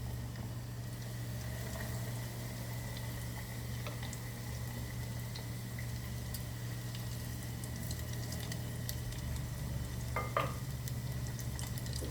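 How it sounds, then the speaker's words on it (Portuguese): Steady crackling sizzle of breadcrumb-coated meatballs frying in very hot oil, continuous and close, with a low hum underneath and occasional louder pops. "Agora é só fritar em óleo bem quente."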